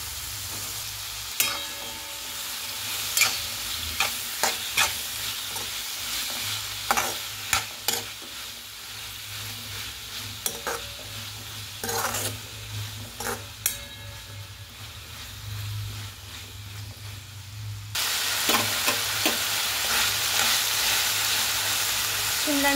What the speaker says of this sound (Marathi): शिमला मिरची परतून घेतली आहे।